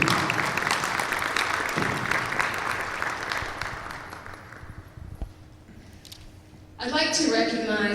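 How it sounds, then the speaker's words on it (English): A school graduation crowd applauds the board of directors with broad, steady clapping that slowly fades. A voice comes in over the last second or so. "let's give the Board of Directors a round of applause"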